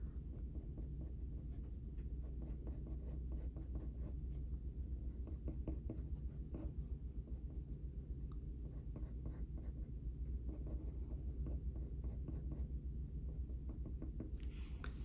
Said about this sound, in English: using the pointier side of my pencil, I'm just going to add a few of these tiny little marks